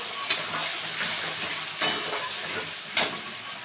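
Browned onion frying in a pan with ginger, garlic and green chilli paste, a steady loud sizzle and hiss broken by three sharp scraping stirs.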